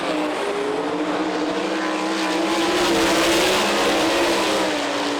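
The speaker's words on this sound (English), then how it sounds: "And Tasker Phillips within 4 car lengths now as he tries to reel in your leader" Sprint cars roar around a dirt oval in Eldon, Iowa, a dense, continuous, loud engine drone with a steady high-pitched whine and slight pitch shifts as the pack passes.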